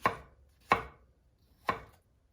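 Knife chopping through food on a cutting board for rice paper rolls, three crisp, close, separate thuds with pauses between them and no talk.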